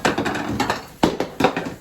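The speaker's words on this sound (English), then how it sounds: "Knocking stuff over." Objects being knocked over in a kitchen, a handful of close, hollow clattering knocks and bumps in an uneven rhythm over a couple of seconds.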